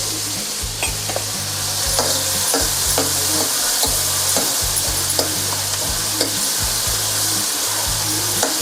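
Chopped onion with a little salt fries loudly in a pan, a dense steady sizzle broken by repeated scraping and clinking strokes of a spatula as it is stirred, with no talking.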